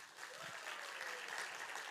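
Steady applause of encouragement from a church congregation during a Sunday worship service and graduation ceremony, dense and continuous throughout, fairly faint.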